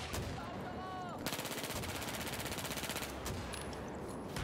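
Rapid automatic gunfire in the video game Battlefield 4, a dense burst of close machine-gun shots with a sharp opening crack, fairly quiet overall with faint game ambience.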